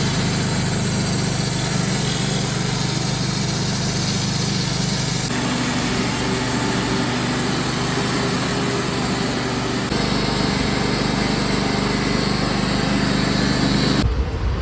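A Wood-Mizer LT35 sawmill cutting a large poplar log into boards, a loud steady engine and band-saw roar running continuously with slight shifts in tone, close by and uninterrupted.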